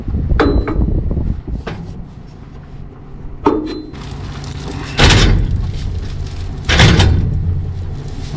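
Loading a fresh roll of net wrap into a hay baler while baling bean straw: a series of loud metallic bangs, knocks and clunks at irregular intervals over a steady low hum, with no talking.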